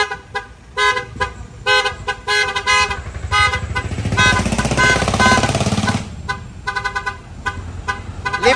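A 12-channel horn module on a Ford Ranger cycling through modes: loud electronic horn tones in rapid staccato bursts, then a sustained rasping blare, then more stuttering pulsed honks.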